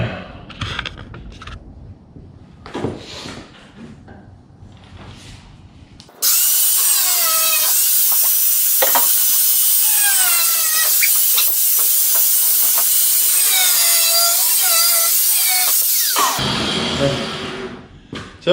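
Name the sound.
cutting pieces off while building a horse-drawn hearse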